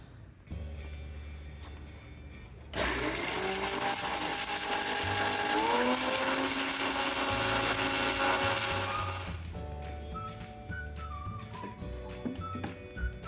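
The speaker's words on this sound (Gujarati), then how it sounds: "હવે આપણે આને એક મિક્સર જારમાં એકદમ બારીક પાવડર કરી લઈશું" An electric mixer grinder jar whirs loudly for several seconds grinding dried ginger into fine powder, a steady high-pitched motor roar starting abruptly and cutting off, with quieter kitchen noise before and after.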